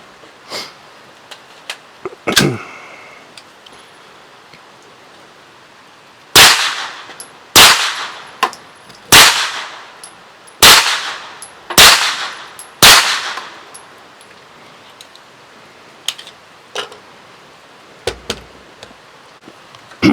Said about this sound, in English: We're shooting, I think it's 154 grains, full metal jacket from Cellular and below.